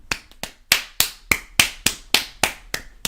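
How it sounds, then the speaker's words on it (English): A pair of hands claps about ten times in a steady, slightly uneven rhythm, each sharp, close, bright smack ringing briefly before the next, with no voices over it. "I'm clapping like that big girl was clapping"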